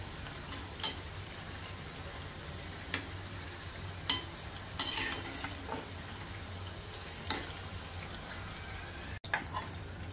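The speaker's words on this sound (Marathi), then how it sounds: "छान तळल्या गेल्यात बघा." Khari shankarpali, savoury flour diamonds, frying in oil, a soft steady sizzle close by with occasional light clicks of a spoon turning the pieces.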